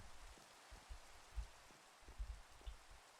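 Steady rain falls in the blocky Minecraft woods beside a half-built log cabin, a soft, faint hiss with scattered low patters running throughout, no voices.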